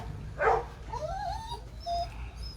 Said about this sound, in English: She's barking because there's other dogs outside.